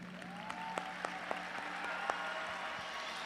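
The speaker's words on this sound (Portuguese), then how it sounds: "Eu gostaria de aplaudir vocês pela sua sinceridade." An audience at a talk by Dr. Augusto Cury applauds in a steady, even patter of many hands clapping. It sounds moderately distant and soft, with a few sharper individual claps.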